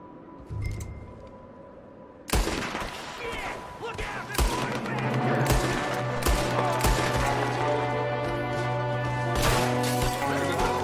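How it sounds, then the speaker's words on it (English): A Red Dead Redemption 2 firefight rages with repeated sharp gunshots and cracks over a sustained din, close and loud, with voices talking beneath the shooting. "There's another one shooting from the window."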